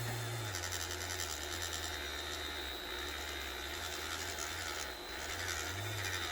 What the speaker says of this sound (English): I do sanding with one grit one night, and then the next grit the next night.